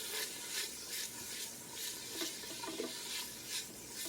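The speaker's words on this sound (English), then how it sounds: "So now we're gonna stir this up a little bit" Garlic being stirred in a soup pot while making chicken and broccoli soup, with a soft steady sizzle and repeated scraping strokes of the spoon that come up in a slow rhythm, close and fairly quiet.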